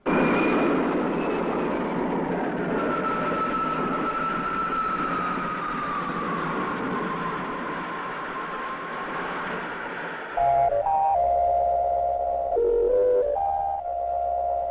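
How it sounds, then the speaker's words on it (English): Spaceship lifting off in an old science-fiction serial: a loud, steady roaring rumble with a slowly falling whine for about ten seconds, then abrupt shifts into pulsing electronic tones. "Takeoff program starting now."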